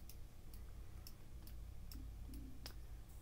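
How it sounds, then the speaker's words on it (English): Mouse clicks during a Minecraft session, a series of sharp, evenly spaced ticks roughly every half second over a steady low background hum, close and fairly quiet. "You can hear me clicking."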